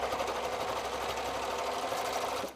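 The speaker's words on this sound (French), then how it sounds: "Vous terminez quelques points par-dessus votre début de couture." A sewing machine stitches the armhole seam of a dress sleeve, keeping up a close, steady, rapid mechanical hum and rattle without pause until it winds down at the very end.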